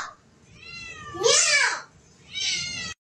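A cat meows repeatedly with a child, close and loud: a short rising call, a longer, louder drawn-out meow, then another sustained one, with no talk over it.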